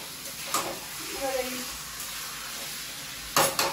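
Whole chillies dropped into hot oil in a home kitchen pan, giving a soft, steady sizzle with brief louder crackles near the start and end, fairly close and moderately quiet.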